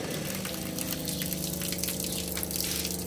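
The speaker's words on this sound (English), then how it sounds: "So you got water coming out of there." Water pump mounted on a 1968 Ford Courier survival trailer running steadily, with a constant mechanical hum and water gushing out continuously, close and fairly loud with no talking.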